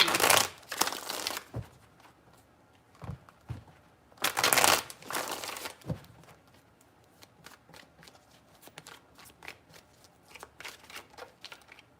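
Tarot cards shuffled by hand, with two loud bursts of riffling near the start and middle, followed by softer shuffles and light card taps that continue to the end.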